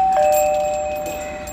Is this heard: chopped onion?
no